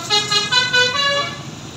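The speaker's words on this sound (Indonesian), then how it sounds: "Ada telolet, cek aja ya." A bus on the Aceh-Medan route plays a musical telolet horn, loud and close. It is a melodic sequence of tuned toots that changes pitch several times in under two seconds over road traffic.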